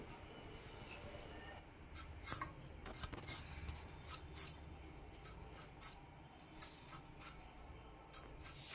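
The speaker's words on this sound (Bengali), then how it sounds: "টমেটোটা একদম এরকম পাতলা পাতলা করে কেটে নিচ্ছি" A kitchen knife slices a tomato into very thin pieces for chutney, giving a run of crisp, close cutting taps and scrapes against a board in uneven rhythm, with no voices.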